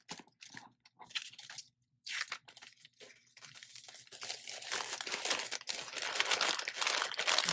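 Shredded paper gift filler rustles and crinkles as it is handled while a gift is packed, starting with a few short scattered bursts and then building into steady, close crackling that grows louder toward the end.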